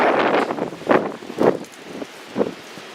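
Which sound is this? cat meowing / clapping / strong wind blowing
strong wind blowing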